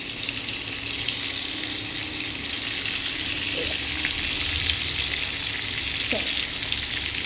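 Butter melting and sizzling in hot oil in a pan, a steady broadband frying hiss throughout with a couple of faint pops, close and moderately loud.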